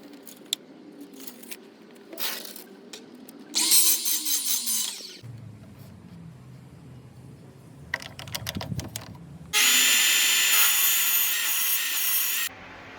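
Material being cut to size for a U-Scribe jig in a workshop: scattered knocks and rubbing scrapes, then bursts of harsh sawing, the last a long steady cut.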